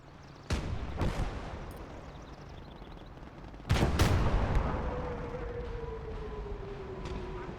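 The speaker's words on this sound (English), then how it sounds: "a Calliope barrage comes in and decimates our infantry on that point" A Calliope rocket barrage lands in the World War II game Gates of Hell: Ostfront, two pairs of sharp blasts with rolling rumble between them, while a siren-like whine glides downward toward the end.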